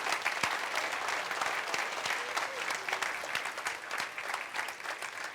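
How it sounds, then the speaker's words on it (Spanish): A church congregation applauding during a Spanish-language sermon, a sustained wash of many hands clapping at moderate volume with a few sharper claps standing out. "Dale un aplauso al Señor"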